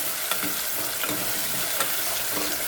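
Green chillies frying in a pan for a curry, with a loud, continuous sizzle of hot oil and a few soft, evenly spaced spatula strokes.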